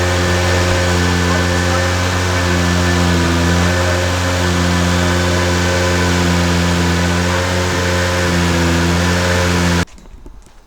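A twin-turbo 1JZ engine swapped into a Nissan Skyline runs loud and close, a steady rumbling idle with slight rises in revs, then cuts off abruptly near the end.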